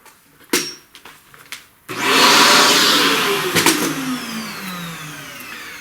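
A vacuum cleaner clears loose pastel chalk from a flower drawing, starting abruptly after a few light taps and then droning steadily and loudly close by, its pitch drifting slightly as it moves.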